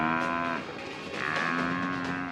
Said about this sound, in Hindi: ये भैंसा बहुत ताकतवर है।